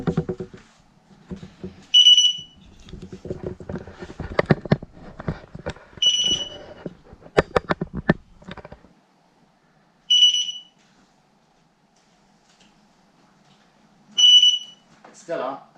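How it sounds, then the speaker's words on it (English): A crashed 16X electric unicycle sounds its alarm mode, a clear high beep repeating every few seconds, heard first under someone talking and then alone in near silence. "and then went into this alarm mode."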